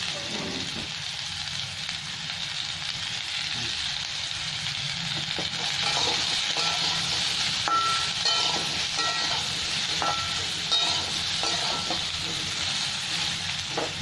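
Raw mango pieces for pickle fry in a pan with a steady, close sizzle, along with scattered stirring scrapes and light clinks throughout.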